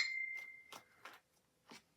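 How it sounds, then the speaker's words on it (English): A phone notification goes off with a short bright electronic tone at the start, followed by a few faint, brief taps in a quiet room. "my phone keeps going off"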